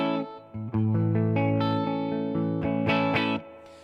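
Electric guitar on a clean tone through a Tulpa FX Splinter clean boost pedal into a Deluxe Reverb amp, playing a few plucked notes and then sustained ringing chords with a short pause early on, loud and close with no talking.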